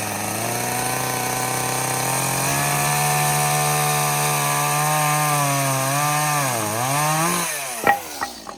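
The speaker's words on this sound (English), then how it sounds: "cutting this 6x2 off. And there's only one way to do that. That is with a chainsaw." Chainsaw engine droning steadily, then bogging and revving as it bites into a 6x2 timber, loud and close, ending with a few knocks.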